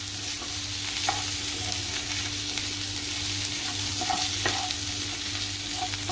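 Crushed ginger and garlic sautéing in a pan for a Methi Batata (aloo methi) dish, a steady close sizzle with occasional stirring scrapes and soft pops throughout.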